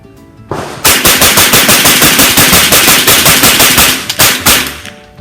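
Rapid test fire from a Remington 11-87 shotgun and a CMMG .22 rifle, a loud, close, sustained string of evenly spaced shots for several seconds that breaks off briefly near the end and resumes, with no talking.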